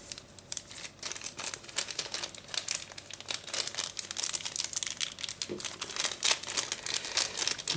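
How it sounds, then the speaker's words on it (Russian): Crinkly plastic packaging of an FQ777 pocket drone being torn open, with dense bursts of crackling and ripping close by and a voice speaking faintly underneath. "потому что здесь нужно его разрывать. Давайте разорвем"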